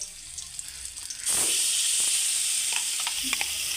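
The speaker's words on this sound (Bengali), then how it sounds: "কড়াই তেল দিয়ে দিলাম দুটো কাঁচা লঙ্কা ফাটিয়ে দিয়ে দিলাম এবারে এই পেস্টটা যেটা আছে সেটা এর মধ্যে দিয়ে দেবো" Pointed gourd paste hits hot oil with cracked green chillies in a kadai. It starts as a quiet low sizzle, then bursts into a loud, steady hiss of frying with a few small crackles and pops.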